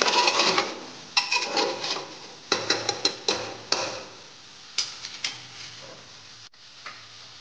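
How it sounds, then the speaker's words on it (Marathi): A spoon stirring mutton curry made with goat trotters in a metal pot, just after coriander goes in: a run of sharp, irregular metallic clinks and scrapes, close and fairly loud, thinning out toward the end. "चांगलं हलवून"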